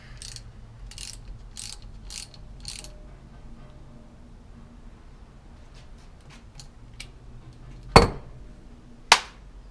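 A ratchet snugs bolts on a Ford 9 inch third member in a quiet space, giving several quick clicking bursts early, softer ticks later, and two sharp metallic clanks near the end.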